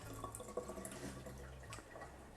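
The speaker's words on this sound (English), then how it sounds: "we're going to flush the boiling water out of the system" Boiling water from a Qettle tap runs into a sink beneath it with a soft, steady trickle and faint drips, quiet and continuous without any voices.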